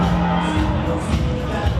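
Boxing fans at a Chris Eubank Jr vs Conor Benn weigh-in, a dense roaring crowd with scattered cheers and whoops, loud and continuous throughout.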